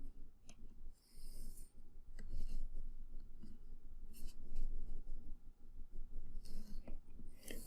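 A pencil draws light perspective lines on paper, a close, scratchy sliding stroke that comes in bursts with short pauses, some soft rubbing in between, and no speech.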